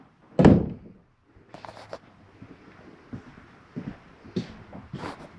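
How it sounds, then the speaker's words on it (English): Inside a 2024 Jayco Jayflight 324BDS travel trailer, a door shuts with one firm thump, followed by quieter clicks and rattles of the latch and lock being worked. "Lock my door."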